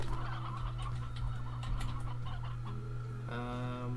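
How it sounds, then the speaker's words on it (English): Stony hens in the video game Slime Rancher cluck and gobble steadily over a low game hum, with a run of quick repeated clucks near the end. "I'll put stony hens in here. All of the chickens."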